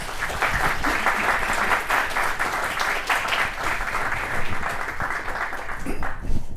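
A lecture audience applauds steadily to welcome a visiting artist, a dense, even wash of clapping that holds for several seconds before tapering off at the end.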